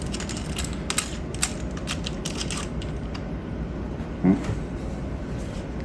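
Nut being tightened with a ratcheting tool while assembling a PHILIAM FX1 electric mountain bike, rapid close metallic clicking with a few louder clinks over a low hum.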